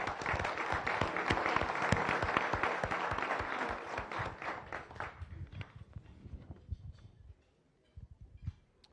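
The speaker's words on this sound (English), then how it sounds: "a warm round of applause from all of our visitors and guests" Visitors and guests at a Las Vegas Rotary Club weekly meeting give a warm round of applause, dense clapping that thins into scattered claps and fades out near the end.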